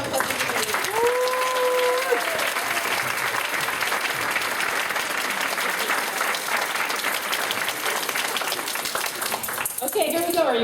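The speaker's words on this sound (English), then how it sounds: "Let's give everybody a round of applause for participating." Sustained audience applause at a Toastmasters District 30 humorous speech contest conference, a dense steady roar of many hands clapping for about ten seconds, with brief voices and whistles near the start and end.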